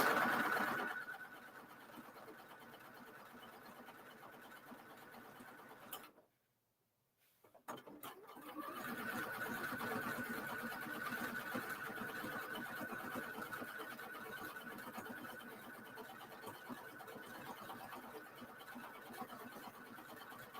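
A sewing machine stitches quilted fabric in a steady mechanical whir with a high motor tone. It stops for about a second partway through, then resumes and runs evenly to the end.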